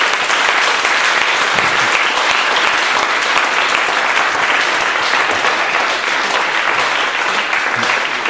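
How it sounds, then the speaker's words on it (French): An audience applauds two speakers at the close of a talk on Romanian history and the Holocaust, a dense, steady wash of clapping that holds loud and even throughout with no voices over it. "Je ne voudrais pas vous laisser partir, d'abord sans avoir applaudi nos deux orateurs"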